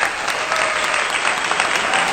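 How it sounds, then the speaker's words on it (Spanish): Standing applause for Venezuelan doctors fills the room, a dense, steady crowd clapping that stays loud for its whole length with no voices on top. "Un bien aplauso parados."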